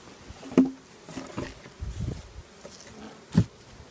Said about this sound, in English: So I close up the hive to try to minimize the disturbance to the other bees